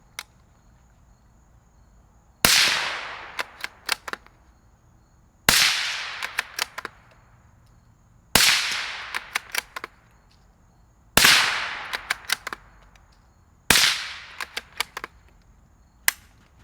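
Five suppressed shots from a Savage 17 HMR rifle fitted with a Griffin Armament Smokey suppressor, each a sharp loud crack with a quick decaying tail, fired at steady intervals of about three seconds outdoors, with faint clicks between shots.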